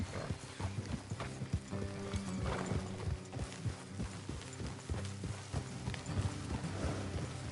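Horse hooves clip-clop steadily over a dense Red Dead Redemption II game soundscape, several horses trotting close by amid low rumble and ambient noise.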